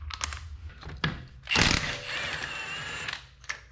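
A Milwaukee M18 Fuel high-torque impact wrench loosening a bolt, a loud close burst of rattling hammering that then settles into a steadier, slower whir before stopping.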